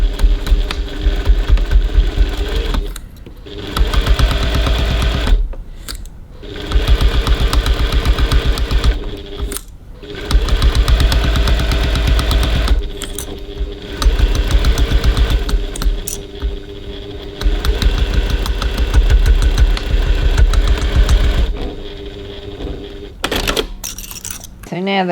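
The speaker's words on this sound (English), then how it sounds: "we're going to go over to the sewing machine and baste that zipper panel in place using a 6mm 1/4 of an inch seam" A close sewing machine basting a zipper panel onto a handbag with a quarter-inch seam, running in long loud buzzing stretches broken by several brief pauses.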